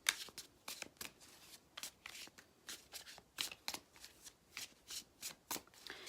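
Tarot cards being shuffled by hand, a rapid series of crisp riffling bursts repeating in an uneven rhythm, close and quiet with no speech.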